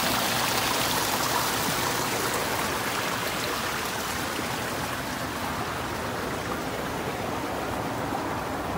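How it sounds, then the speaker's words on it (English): Steady rushing water of a stream flowing beneath a footbridge in a garden nature center, a continuous broadband wash with no pauses, fairly close and uninterrupted throughout. "Streams and rivers always flowing, never stopping."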